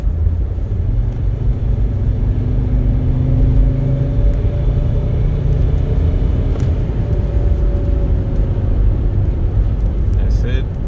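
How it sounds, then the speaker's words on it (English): A Mercedes ML 270 CDI diesel SUV, just repaired after failing to rev past 3000 RPM, accelerates at full throttle. A deep, loud engine drone rises steadily in pitch over about ten seconds, heard close from inside the vehicle. "I'm gonna step on the gas all the way."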